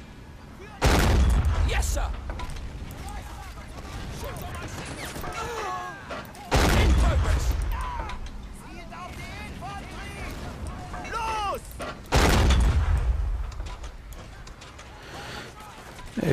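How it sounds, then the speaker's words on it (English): Cannon fire in the Men of War Assault Squad game, three loud booming blasts spaced several seconds apart, each followed by rumbling battle noise, with someone speaking briefly in between. "This cannon is really destroying everything"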